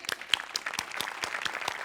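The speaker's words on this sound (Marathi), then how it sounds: "एकदा जोरदार टाळ्या शिवालीसाठी." An audience at a Marathi comedy show gives a short burst of applause for actress Shivali Parab: distinct, fairly close hand claps in a quick, uneven rhythm, moderately quiet.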